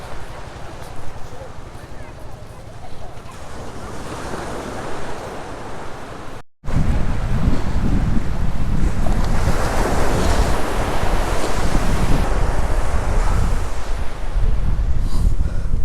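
Surf washing onto a beach on Saint Martin island, with gusting wind buffeting the microphone; quieter at first, then a sudden loud, steady roar of waves and wind that continues to the end.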